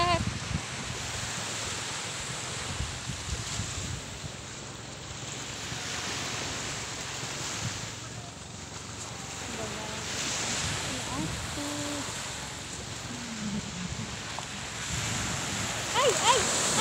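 Steady surf washing in and out with a breezy hiss, heard close, continuous rumbling swells and faint splashes throughout.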